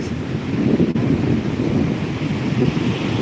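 Sea waves crash and surge steadily at Vettukad beach, loud and continuous with heavy wind buffeting the microphone.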